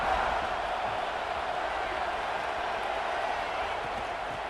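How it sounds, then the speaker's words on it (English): Steady stadium crowd roar from a College Football 26 video game matchup of Alabama at Georgia, a dense continuous wash of cheering that holds level throughout with no distinct peaks. "the crowd coming to life here, trying to help this defense down in the red zone"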